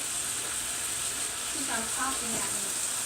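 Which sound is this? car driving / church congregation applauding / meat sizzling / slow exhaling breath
meat sizzling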